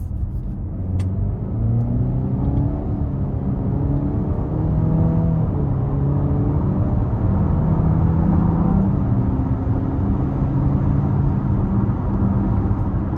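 A 2026 Cadillac XT5 2.0T AWD accelerates from inside the cabin, a steady low rumbling engine note climbing in pitch through gear changes, continuous and fairly loud with no talking.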